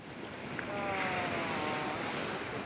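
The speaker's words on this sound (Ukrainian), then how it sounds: "я міг чути, як хвилі розбиваються ніби біля мого вуха, бо це було просто у підніжжя моєї палатки" Ocean waves break near a tent pitched on a coastal trail at high tide, a steady, full roar of surf and wind rushing continuously without distinct pauses, close and fairly loud, with no voices.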